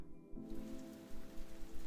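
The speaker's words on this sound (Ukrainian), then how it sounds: "Дощ відбивав свою ритмічну музику на асфальті." Rain falls steadily on asphalt, a dense, even hiss of drops that holds at the same level throughout with no voices.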